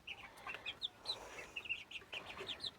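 Grown hens and roosters cluck and squawk in a busy, uneven chorus, several birds calling close by with short sharp notes over a quiet background.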